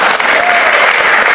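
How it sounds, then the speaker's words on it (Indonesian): Church congregation applauding together during a sermon, a dense, steady wash of clapping from a crowd that fills the whole short stretch at full loudness. "tepuk tangan semua bagi Tuhan"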